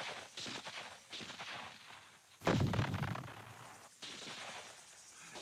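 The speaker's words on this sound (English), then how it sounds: "NLF snipers opened up from hidden firing positions and within seconds vanished back into their tunnels" Rifle fire from hidden sniper positions in a war documentary, with cracking shots and a heavier burst mid-way, set against a dense background of battle noise.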